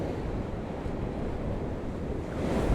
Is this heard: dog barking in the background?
no